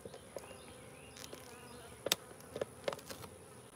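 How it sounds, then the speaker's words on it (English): Honey bees buzz steadily around an open hive during a honey harvest, a continuous close insect drone with a few louder passes of bees flying near. "Let's see if I can get away from these bees"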